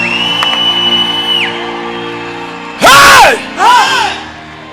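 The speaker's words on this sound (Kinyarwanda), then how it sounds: "Tuvugize Yesu impundu nyinshi" A church congregation ululating in praise of Jesus, two loud bursts of high warbling trilling voices rising over a quieter hum of sustained tones and crowd.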